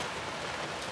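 Rain falls steadily outdoors near a herd of animals, a faint, even hiss of drops without pauses or voices.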